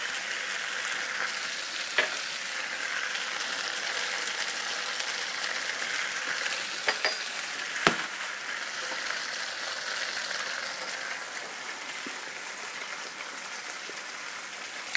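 Gnocchi with rosemary, salt and pepper sizzling in a frying pan, a continuous bright frying hiss broken by a few clattering tosses and pan knocks, close and steady.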